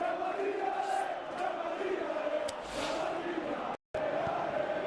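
Stadium crowd roaring steadily in the football game PES 2025, a dense continuous cheer with swelling peaks and one brief dropout near the end.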